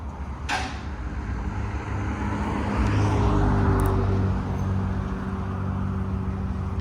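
A 5.3L V8 Chevy Silverado Trail Boss with a Borla Touring cat-back exhaust idles at close range, a steady low rumble that swells briefly before settling back to an even hum.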